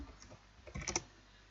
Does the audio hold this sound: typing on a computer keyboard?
yes